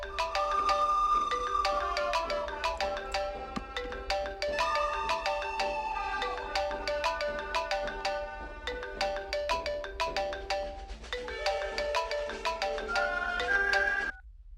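A melodic phone ringtone plays in a dubbed action film, its bright electronic notes repeating steadily for about fourteen seconds, loud and continuous with no talking over it.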